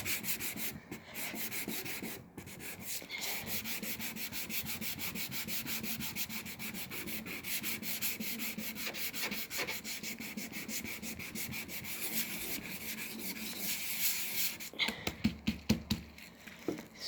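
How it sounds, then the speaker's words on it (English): An old wooden dresser is hand sanded with sandpaper glued to a block. The rubbing rasp runs steadily and close for about fifteen seconds, then breaks into a few separate short strokes near the end. "there is some sort of sanding, if you call it sanding"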